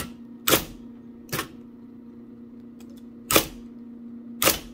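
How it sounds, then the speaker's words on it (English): Keystrokes on a 1980 IBM Selectric III electric typewriter typing business cards: four sharp, separated strikes over a steady motor hum, close and moderately loud, with no voices. "if I keep on typing, this guy will get creased over"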